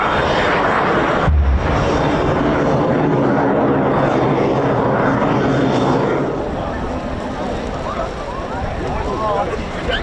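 A Chinook helicopter roars loudly during a display at the RAF Cosford air show, its heavy rotor and engine noise filling the air while a commentator talks over it.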